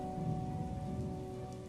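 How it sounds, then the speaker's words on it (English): Steady rain falls continuously, a soft even patter with a low rumble underneath, quiet and unbroken with no voices. "The rain will help with the stealth."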